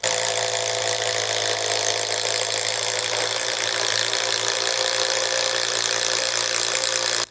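An impact driver drilling with a self-feeding spade bit whines continuously at a steady high speed, loud and close, with no pauses or talking.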